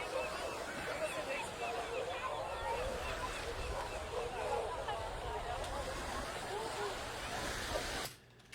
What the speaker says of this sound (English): I have one that's a dry beach sound, and then I have one that's kind of a binaural sound beach sound.